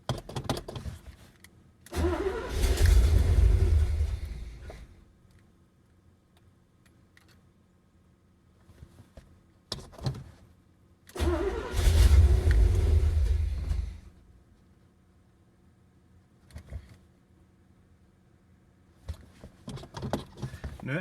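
A Chevrolet Corvette engine is cold-started in winter after sitting for a couple of months. The starter cranks in two long rumbling bursts separated by quiet pauses, with faint clicks between and no speech.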